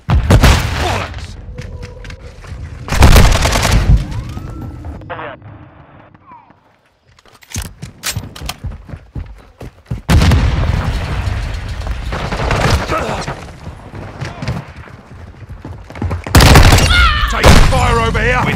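Rapid gunfire in Call of Duty: Modern Warfare II, with loud bursts of automatic fire and booming shots coming in waves amid a chaotic battle, broken by a quieter lull and overlapping with game voice callouts.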